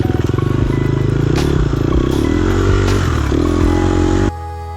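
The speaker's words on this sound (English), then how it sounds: "my RPMs are so low through here" An offroad racing motorcycle engine lugs at low RPM on a fast lap, a loud, close, rough chugging with clattering, ending in a sudden drop in level.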